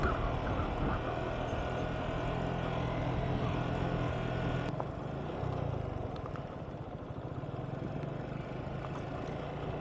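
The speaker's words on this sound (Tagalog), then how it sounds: "Talagang sabak yung ating motor sa rough road." A motorcycle rides a rough dirt road through Sitio Kambubuyugan toward Dingalan. Its engine and rattling road noise run steadily throughout and shift slightly midway, with no one talking.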